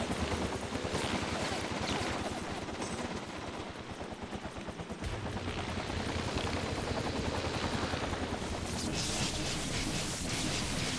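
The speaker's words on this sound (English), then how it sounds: "Let's take out this chopper in style." Helicopter in the inFamous 2 video game: a loud, steady rotor thump with dense rapid chopping pulses throughout, mixed with bursts that resemble gunfire, and no talk.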